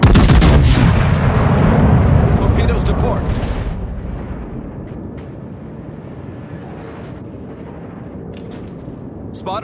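Heavy naval gunfire from a warship in World of Warships aboard the Ohio, opening with loud booming salvos that roll off into a fading rumble, with a radio-style voice speaking over it.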